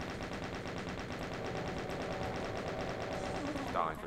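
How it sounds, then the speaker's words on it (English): Chaingun firing in the video game Doom, a dense continuous rattle of rapid shots lasting the whole four seconds at steady loudness, with a brief higher game sound near the end. "Chain gun."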